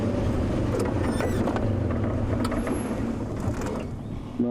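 Safari vehicle engine idling and rumbling steadily in the Sabi Sand bush at sunrise, a low continuous drone with faint mechanical rattles and clicks on top, close and fairly loud, no talking.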